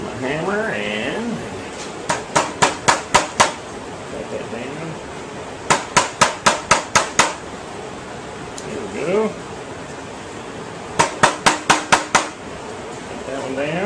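A hammer drives a wooden dowel into a paper towel holder in three quick rounds of five or six sharp taps. A person speaks between the rounds.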